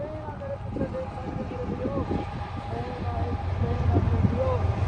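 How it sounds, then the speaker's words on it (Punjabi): A train passes through central Canada, its steady low rumble growing gradually louder over a few seconds while a voice murmurs faintly underneath. "ਸੋ ਇਹ ਟ੍ਰੇਨ ਹੈ ਟ੍ਰੇਨ ਹਾਂ ਹਾਂ ਹਾਂ ਸਹੀ ਸੁਣਿਆ"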